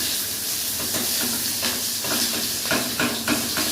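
Chopped onion dropped into hot oil with dried red chillies and five-spice seeds for a yogurt fish dish, giving a loud, continuous close sizzle with occasional stirring knocks.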